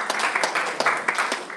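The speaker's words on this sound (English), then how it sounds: "Give him a round of applause." An audience applauds a participant at a live event, a short burst of dense clapping at steady strength with a few sharper claps standing out.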